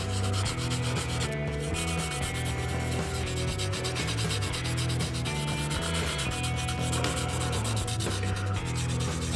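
Continuous rhythmic rubbing of hand wet sanding on the varnish of a McLaren MP4-12C GT3 race car, a steady back-and-forth scrape with no voices.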